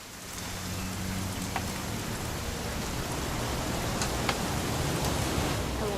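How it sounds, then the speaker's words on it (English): Steady rain falls in the video game What Remains of Edith Finch, a dense, even hiss that holds throughout with faint low rumble beneath and no voices. "It's gonna rain the whole weekend"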